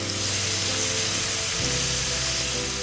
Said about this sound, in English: Add the Chinese potato, give a quick stir